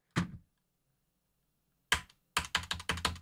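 Keystrokes on a faulty computer keyboard: one isolated press, a pause, then another, followed by a rapid run of five or six sharp clacks, close and clear with no talking.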